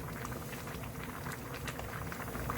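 Perilla seed soup with dried radish greens (siraegi) simmers in a pot, a faint, continuous low bubbling and gentle popping throughout, with no voices.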